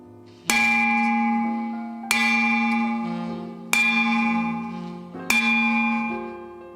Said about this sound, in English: the bell sounds good today. The bell sounds crisp.